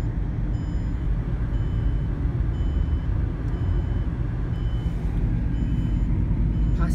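A car driven along a road, with a steady low engine and road rumble continuing close and unbroken throughout, faint high tones recurring above it.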